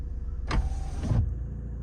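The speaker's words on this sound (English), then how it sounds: "you know it's all finished when the windows go up that extra inch again" Electric windows on a 2010 Vauxhall Astra Twin-top 1.9 CDTi diesel convertible motor upward in one steady whirr lasting under a second, close by, with a faint click as they stop.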